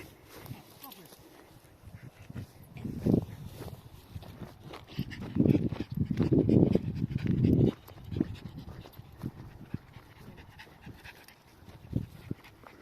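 Mabel the dog pants and scuffles about close by on a scorching hot farm field walk, breathy bursts rising and falling with movement while a person talks over it.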